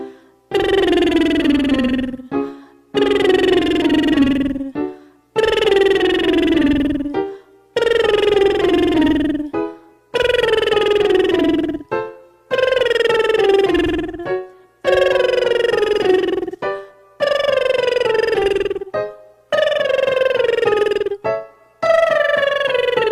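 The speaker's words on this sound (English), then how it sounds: "Okay, so we're going to start with our first lip trill" Repeated vocal lip trill warm-up, about ten buzzing phrases each sliding in pitch, with short pauses between them, the sequence stepping up the range, loud and close.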